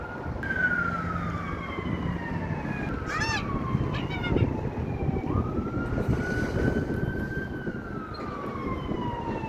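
An ambulance siren wails steadily at a distance, its tone sliding up and down over a windy outdoor background, with a faint voice briefly heard.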